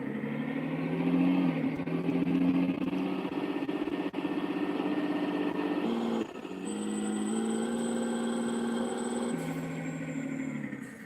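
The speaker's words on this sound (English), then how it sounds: "This V8 sounds really good when it's idling." A Ford V8 idling, a steady low rumble with a smooth, even tone, briefly dipping near the middle before settling back into the same close, moderately loud idle with no voices.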